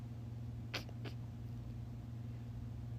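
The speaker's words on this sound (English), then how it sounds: "That's my cat." A small young cat gives two brief meows close by in a quiet room in the middle of the night, against a steady low electrical hum.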